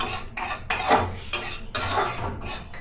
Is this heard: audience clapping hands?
no